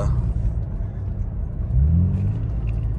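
Deep, low exhaust burble from a 2018 Toyota Tacoma pickup with Flowmaster and Supertrapp exhaust at low revs, a rumbling throb that swells slightly midway, steady and close.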